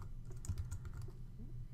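Keys clatter on a computer keyboard in quick uneven bursts while an assignment title is typed into Google Classroom, close and fairly quiet with no talk.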